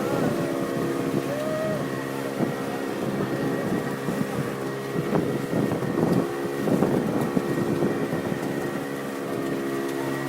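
Constant drone of a motorboat engine at sea off Trenggalek beaches, Indonesia, with wind buffeting the microphone, big waves and water noise, steady and loud throughout.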